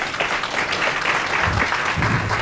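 Applause from a small audience at a women-in-planning panel discussion, steady moderate clapping with some uneven bursts, fairly close.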